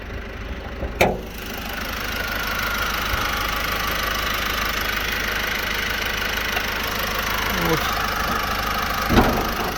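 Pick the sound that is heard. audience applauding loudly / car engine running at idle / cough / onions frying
car engine running at idle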